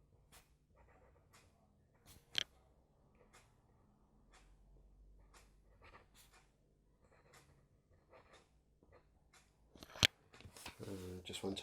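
Faint scratchy strokes from a vintage Waterman fountain pen nib moving across paper, in quick irregular bursts against a very quiet background, with a couple of sharper taps and a louder rustle near the end.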